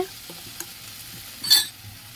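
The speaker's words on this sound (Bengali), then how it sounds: "এখানে চিকেনের প্রিপারেশন শুরু হয়ে গেছে।" Chicken sizzles quietly in a pan while being stirred, with a soft scrape and a brief louder stir near the middle, and no talking.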